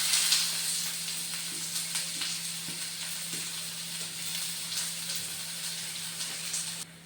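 Long-sliced onions frying in oil for tempering a pork dish, a constant moderate sizzle and hiss with a few faint clicks of stirring, heard close up with nobody speaking, and it cuts off near the end.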